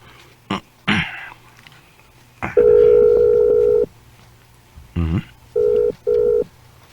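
A telephone gives a steady dial tone and then two short ring pulses for an incoming call, loud and close, with coughs and throat clearing in between.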